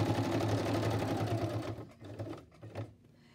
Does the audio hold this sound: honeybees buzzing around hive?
no